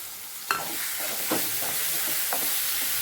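Curry leaves drop into tomato and onion already frying for a spicy chutney, a steady close sizzle with a few sharp crackles and spoon-stirring knocks.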